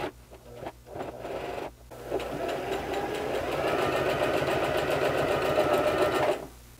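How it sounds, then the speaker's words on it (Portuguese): A sewing machine topstitches along a jacket seam, running in a steady, close whirring hum with brief stops and restarts at the start before settling into one continuous stitching run. "Então eu vou fazer uma costura rente à borda de montagem primeiro."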